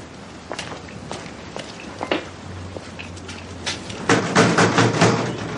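Footsteps approaching the door of a house, a series of distinct steps that grow louder and quicker toward the end, heard alone without talk.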